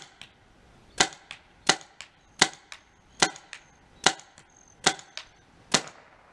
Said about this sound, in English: So I'm going to load it up here quick and shoot downrange